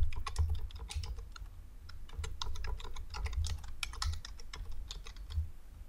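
Rapid typing on a computer keyboard while a project title is entered in Citavi reference software, with steady, close clicking keystrokes in irregular bursts and no voice.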